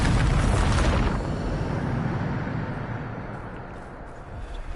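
Bombarda, the explosion spell in Hogwarts Legacy, detonates with a loud, heavy boom that rolls into a long, gradually fading rumbling tail, close and with no voices.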